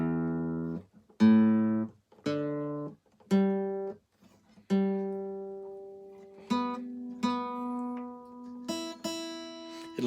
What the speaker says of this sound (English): So I'll get a plectrum and just go check the tuning again.